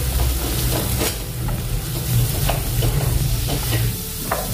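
Spices such as turmeric, red chilli powder and garam masala being stirred into a potato and eggplant curry in a hot pan, with continuous sizzling and scraping strokes of a spoon, close and steady throughout.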